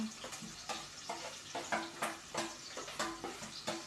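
Garlic and onion sautéed in a pan for pancit palabok, with a rhythmic run of spatula strokes scraping and tossing every fraction of a second over a continuous sizzle, close and fairly loud.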